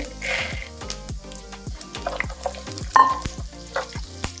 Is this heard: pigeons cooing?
no